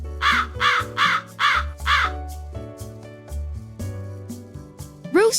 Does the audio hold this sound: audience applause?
no